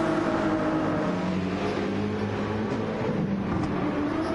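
Ferrari 296 race car in Gran Turismo 7 at Trial Mountain drones with a steady, rough engine roar, loud and continuous throughout, no talk over it.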